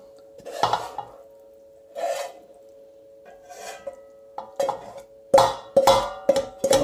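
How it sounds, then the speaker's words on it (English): Caramelised onion being worked into knocked-back bread dough, heard as soft intermittent rubbing and slapping sounds in short bursts, growing busier toward the end, against a faint steady hum. "What I'm now going to do is just add in the caramelised onion."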